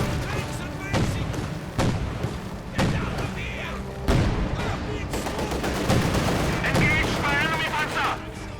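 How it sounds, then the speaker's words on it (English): Company of Heroes 2 battle gunfire: repeated loud shots and bursts with heavy thuds in irregular rhythm under a steady din, with a voice talking throughout. "They're taking back fire!"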